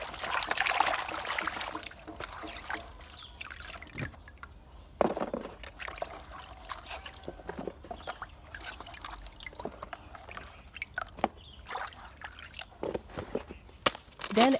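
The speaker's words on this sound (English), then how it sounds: "wash the cut broccoli in clean water to remove dirt" Cut broccoli is washed in a basin of clean water, with soft trickling, sloshing and dripping plus occasional splashes and handling knocks, fairly quiet and close.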